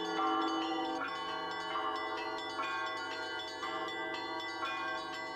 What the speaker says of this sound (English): The art of bell ringing brings together the most well-known ringers from all the world.